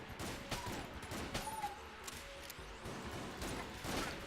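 Rapid bursts of fake gunfire from the video game Enter the Gungeon, dense overlapping shots and hits at moderate volume throughout.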